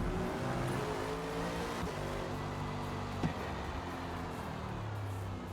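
A race car engine in Forza Motorsport at Suzuka holds a steady, loud drone at full throttle, its tone climbing slightly as it pulls out of a corner, with a brief tire scrub near the middle.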